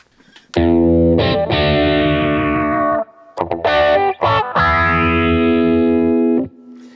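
Distorted electric guitar chords through a Positive Grid Reactor amp preset modeled on a hot-rodded Marshall roar, with strong pick attack: two loud sustained strums, then a choppy burst of short stabs and a final ringing chord, alone and up close.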